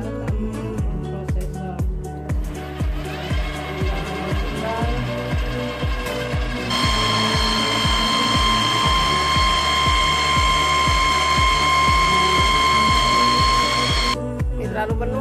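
A kitchen machine grates ingredients for a traditional Indonesian cake, giving a steady mechanical ratcheting whir that rises into a loud, sustained high whine partway through and then cuts off near the end.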